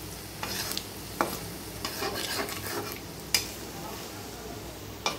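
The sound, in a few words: frying gram flour pakoras in a pan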